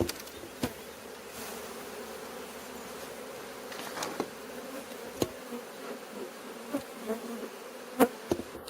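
Honey bees swarm around an opened hive whose two hive bodies rest on a board, keeping up a steady close buzz. Scattered clicks and knocks come from handling the hive frames.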